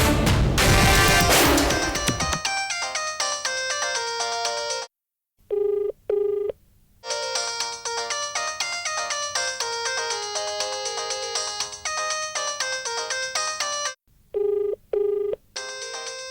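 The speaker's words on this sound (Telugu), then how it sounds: "ఇలా ఫోన్ ఆన్ చేశానో లేదో వెంటనే అక్క ఫోను" A mobile phone ringtone plays as a loud, close melodic tune, repeating in phrases with brief gaps and a short burst near the start.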